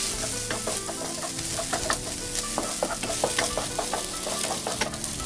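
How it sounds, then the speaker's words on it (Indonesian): Garlic and ginger sauté in a little leftover oil in a pan, a steady loud sizzle broken by scraping stirs of a utensil, with no talking. "lalu tumis bawang putih dan jahe."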